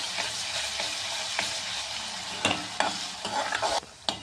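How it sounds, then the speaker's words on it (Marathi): Ginger garlic paste frying in a pan for egg curry, a steady close sizzle with several sharp scraping stirs of a spatula toward the end. "एक टेबलस्पून आले लसणाची पेस्ट परतून घेऊया"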